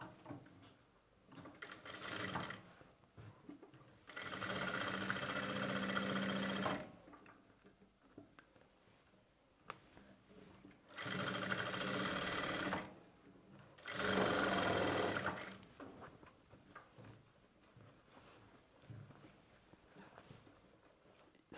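A sewing machine stitches piping onto a garment's lining beside a square neckline, running in three clear bursts of a few seconds each with quiet handling pauses between.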